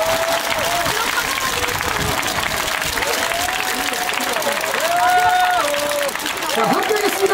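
Crowd clapping and cheering in the stands of a baseball stadium, Daegu Samsung Lions Park, during a Lotte Giants cheer, a loud, continuous wash of applause with voices and whistle-like calls over it.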